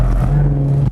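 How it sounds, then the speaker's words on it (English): A drifting car's engine revs hard within its torque band, a loud close steady growl with strong harmonics that holds level and then cuts off abruptly. "You have to keep revving it within the torque band."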